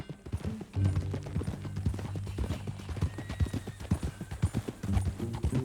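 Hooves clop in a steady walking rhythm on hard ground in Red Dead Redemption 2, close and clear, with a horse briefly whinnying.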